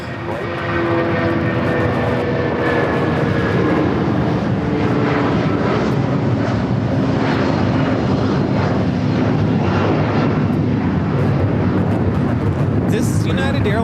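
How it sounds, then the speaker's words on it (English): A United Airlines Boeing 757-200 takes off from LAX bound for Newark, its engine roar loud, broad and steady throughout, with a voice talking faintly underneath. "This is United Airlines 2127 taking off to Newark on the 757-200."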